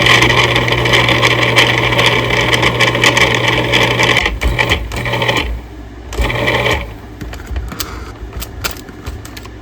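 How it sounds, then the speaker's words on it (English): A food processor pulses butter into a crumbly, sand-like mix for a strawberry biscuit-style cobbler, a loud continuous motor whir that drops out briefly and restarts in short bursts toward the end. "we're only going to pulse this until we get a crummy texture"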